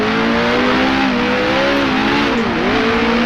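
A 1966 race car in the Grand Prix Legends sim at Bathurst, its engine droning loud and steady near the listener as it downshifts to second, pitch dipping and rising, with no talk.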